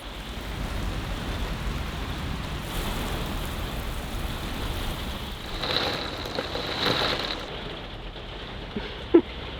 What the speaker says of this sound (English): It's been raining all day and